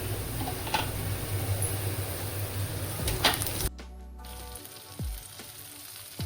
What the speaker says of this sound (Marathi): गॅस थोडा फास्ट करते मी आणि ही मेथी टाकून घेते मी.